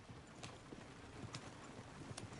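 Horse hooves clip-clop faintly and unevenly in a western video game, a few soft distant thuds with no other sounds over them.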